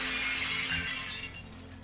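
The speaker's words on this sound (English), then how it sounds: "it sounds like she's breaking like a dish or something" A dish or glass shatters in the video game Bioshock 2, a bright, crashing break that rings briefly then fades, with no talking over it.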